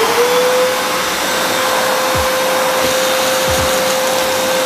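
A Multipro INA VC12-1MD wet and dry vacuum cleaner runs at full suction with a loud, steady motor whine and airy rush, holding constant throughout with a few faint low thumps underneath.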